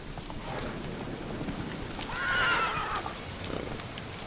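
Horse neighing in the video game Witcher 3, one clear whinny in the middle over faint hoof clops and soft rain-like background, fairly close.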